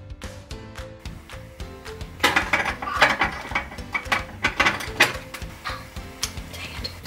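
A sewing machine runs a zigzag stitch while mending fabric on a child's doll pram, giving a close, steady mechanical whirr with rapid needle clatter that swells and eases in short bursts, no voices.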